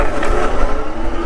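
An Ariel Grizzly e-bike pulls away hard, producing a loud, close, rushing roar that holds at full strength for a brief moment, with no speech.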